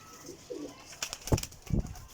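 A breeder pair of ringed pigeons coo softly at close range, then sharp wing flaps and thumps break out near the end.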